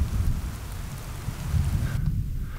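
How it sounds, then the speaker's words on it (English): Rain falling steadily on the African plains with a low thunder rumble, a continuous close wash of drops and deep rolling undertone, briefly dipping near the end. "Now it can rain."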